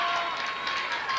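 A crowd at a girls' high school gymnastics state final roars and cheers at improved scores, a steady broad wash of screaming voices heard from a distance in a large arena.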